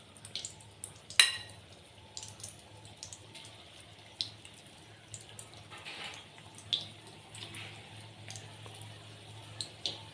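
Chicken pakoras frying in oil over a gas flame turned up, giving a steady low bubbling bed with scattered crackles and one sharp splash early on, close and fairly quiet, with no voices.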